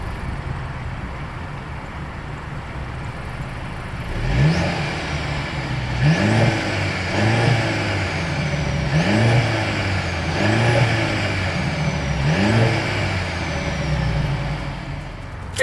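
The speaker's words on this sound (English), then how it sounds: "As always, here is that exhaust clip." A 2025 Mercedes-Benz C 300 exhaust idles, then revs five times in quick, evenly spaced bursts, each rising and falling back to a steady idle, heard close from behind the car.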